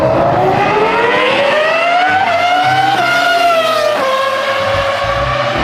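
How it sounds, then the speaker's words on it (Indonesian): A toy Formula One race car gives off a loud, continuous engine whine that rises and dips in pitch, with faint handling knocks underneath. "ada mobil balap Formula One."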